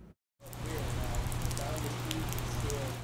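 Rain pours through gaps in a hurricane-damaged roof at a fire department's central office, a steady dense hiss of falling water with a low hum underneath.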